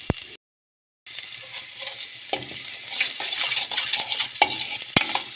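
Curry leaves are stirred into onion, garlic, shallots and ginger frying in a pan for kappa biryani, with a soft sizzle, scraping strokes and a couple of sharp clinks after a brief gap.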